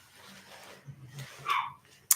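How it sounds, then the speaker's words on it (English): Dogs give a few faint, scattered barks and whimpers at a distance indoors, ending with one sharper, louder yip. "My dogs are barking."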